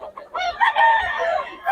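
A rooster crows close by among gamecocks offered for sale, a single long, loud, wavering call over faint background noise.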